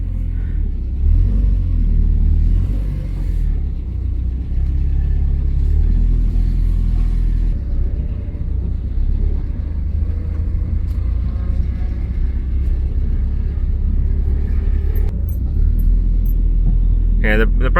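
A Porsche 924 engine running with a loud, steady low rumble and rising revs while the car is put through its gears, close and dominant throughout, with people talking over it and a brief clatter near the end.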